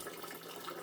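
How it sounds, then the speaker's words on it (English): Fresh filtered water poured for tereré yerba mate, a steady close splashing stream running evenly throughout with no talk. "Now in goes some fresh filtered"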